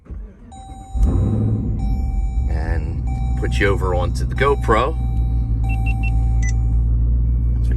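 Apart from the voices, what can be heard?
car engine starting and running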